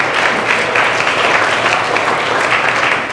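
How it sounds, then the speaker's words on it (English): Steady, dense applause from a large audience at an annual meeting, loud and sustained without pause. "give yourself a round of applause"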